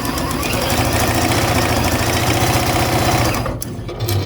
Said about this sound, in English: You're just sewing those pieces together